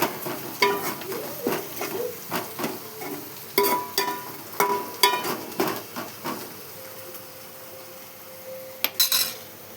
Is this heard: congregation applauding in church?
no